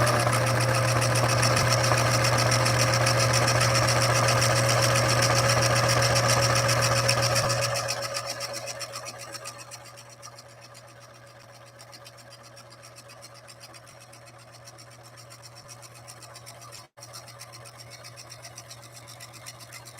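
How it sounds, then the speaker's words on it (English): A Singer 6233 sewing machine runs steadily at speed, a loud close-up hum with a fast stitching buzz, then slows and quiets to a softer whir for the rest. "sew it one more time and see what we get this time."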